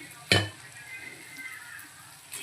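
Onions frying in oil for Hyderabadi mutton boti fry, a soft continuous sizzle opened by one sharp clank of utensil on pan, with light stirring later.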